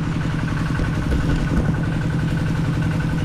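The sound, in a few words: Honda Click 160 scooter engine idling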